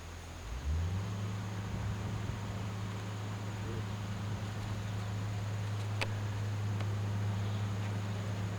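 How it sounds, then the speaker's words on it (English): Heavy road blacktopping equipment starts up and settles into a steady low droning rumble with broadband noise, continuous and fairly close. "the whole county's unloading blacktopping equipment and they're up there blacktopping a lane"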